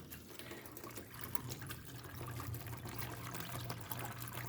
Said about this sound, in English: So I went ahead and made my own little planter water fountain.